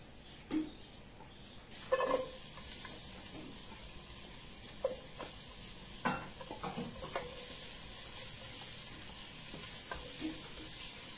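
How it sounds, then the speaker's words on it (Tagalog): Onion sautéing for lechon paksiw gives a steady, moderate sizzle in a pan, punctuated by scattered utensil taps and scrapes nearby. "Now, we're going to saute our lamas. Unahon na to ang onion."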